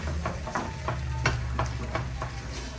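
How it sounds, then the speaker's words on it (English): A wooden spoon stirs vegetables frying in olive oil in a pan, with a steady sizzle beneath repeated scraping strokes roughly every third of a second, close and clear, no talking. "we're gonna keep mixing, make sure it doesn't stick too much to the bottom"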